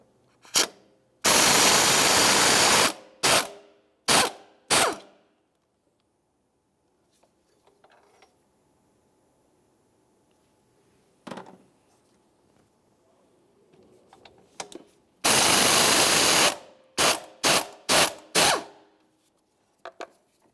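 Two bursts of ratchet and drill work loosen a pair of 18mm bolts on the engine mount bracket of a 2011–2018 Volkswagen Jetta, each burst followed by quick clicks, with a quiet stretch of faint handling noises between them.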